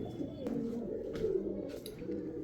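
A pigeon coos softly in a loft of racing pigeons, a short low throaty call close by over faint background noise.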